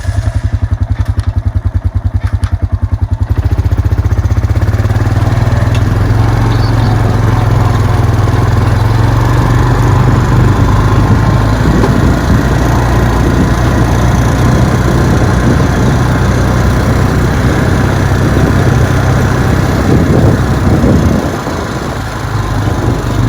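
A vehicle engine drives across rural Arkansas acreage, a loud continuous rumble with rattling and thumping over rough ground, close up throughout and easing slightly near the end.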